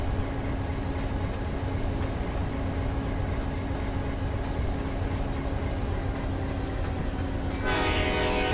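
An Amtrak passenger train in the Run 8 Train Simulator game, a loud, steady rolling rumble that holds throughout, with a brighter horn-like tone rising near the end.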